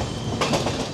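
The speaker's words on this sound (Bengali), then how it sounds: "মোটামুটি ভালোই স্পিড নিয়ে নিয়েছে এখন ট্রেন" The Radhikapur Express runs fast through the night, its carriages giving a steady rushing rumble with rhythmic clickety-clack wheel beats close by.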